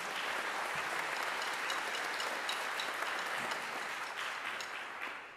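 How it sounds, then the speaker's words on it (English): An audience at a jazz concert claps steadily in a dense, sustained round of applause that tapers slightly toward the end, with no voices over it. "give them another big round of applause for that"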